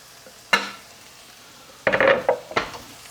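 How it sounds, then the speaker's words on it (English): Garlic sautéing with translucent onions in a pan: soft background sizzle broken by a few loud scraping stirs and clanks of a utensil against the pan. "But 1 more minute saute with the garlic"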